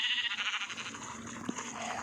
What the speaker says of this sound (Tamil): இப்போ நான் வந்து ஆட்டுக்குட்டி வர வைக்க போகிறேன்